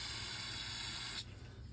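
Carburetor cleaner sprays from an aerosol can into the jets and holes of a lawnmower carburetor, a steady close hiss that cuts off abruptly after about a second.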